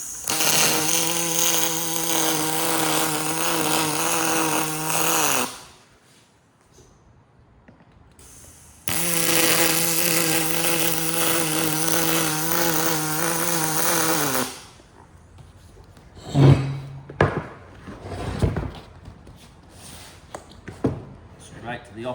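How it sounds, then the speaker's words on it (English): Aluminium seat pole being TIG-style welded in two long bursts of steady buzzing arc, each about five seconds, separated by a pause, followed by scattered clicks and handling noises. "Straight to the opposite side to try to even the welds out on both sides."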